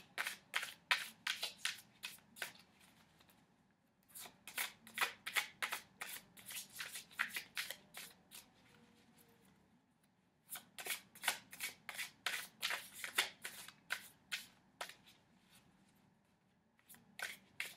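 Tarot cards are shuffled close up, crisp rapid riffling bursts repeating in three long runs separated by short quiet gaps, with no speech.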